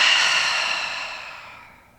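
A single long breath pushed out through the mouth, a soft airy rush that starts strong and fades away over about two seconds, close and alone.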